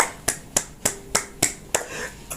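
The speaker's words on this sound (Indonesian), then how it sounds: "Tepuk tangan." Hand claps ring out at an even pace, about eight sharp, close, distinct slaps spaced roughly a third of a second apart, with brief quiet between each.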